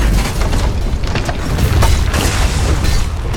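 A tower crumbles in a multiplayer battle game, a dense, continuous rumble of booming impacts and splintering debris sustained at steady loudness throughout.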